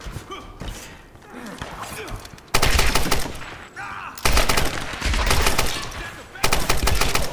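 Enemy gunfire in the video game Tomb Raider 2013: dense, loud bursts of automatic fire in three stretches, with quieter gaps of movement and breathing between them.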